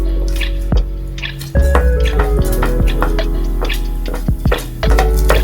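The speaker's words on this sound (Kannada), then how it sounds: "ಈಗ ಇದನ್ನೆಲ್ಲ ಹಾಕಿ ಪ್ಯಾನಲ್ಲಿ ಫ್ರೈ ಮಾಡ್ಕೋಬೇಕು." Black pepper and cumin fry in coconut oil in a pan, giving off scattered crackles, pops and spitting sizzle at close range, with irregular bursts over a low background hum.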